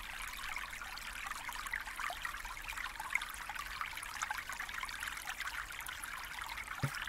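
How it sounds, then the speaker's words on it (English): Stream water trickling and washing over rocks in a forest, a soft continuous babbling rush, faint and steady with no voices. "Picture the stream water fluidly moving over rocks."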